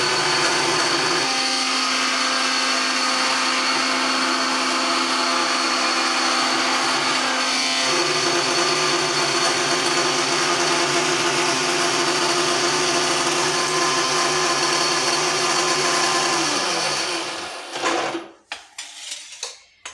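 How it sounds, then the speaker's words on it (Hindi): An electric mixer grinder runs continuously, grinding lentils in a home kitchen, a loud steady whine that cuts off near the end. "मिक्सर में दाल पिसा रहा है"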